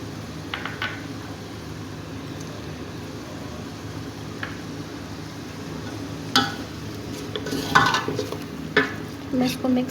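Mutton and spices being stirred and fried for dal gosht, a low steady sizzle with occasional scrapes and clinks of a spoon against the pot, growing busier toward the end.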